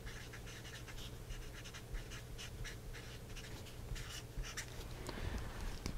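Marker or chalk writing on a board during a lecture on the logistic equation, giving steady scratchy strokes in short rhythmic bursts over a constant low hum, close and fairly quiet, with no speech.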